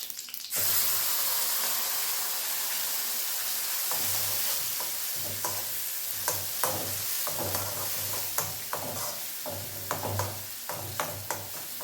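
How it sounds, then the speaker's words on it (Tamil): Ground masala fries in oil in a pan for an ivy gourd curry, giving a continuous sizzle broken by repeated stirring scrapes and taps of a spoon. "அரைச்ச மசாலா போட்டுக்கலாம்"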